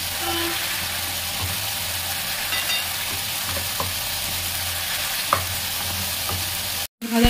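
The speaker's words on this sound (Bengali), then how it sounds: "তো এবার একটু কষিয়ে নিই" Fried onion and tomato sizzle loudly in a pan with chili powder as they are stir-fried, a steady crackling hiss broken by a few scraping stirs, without speech.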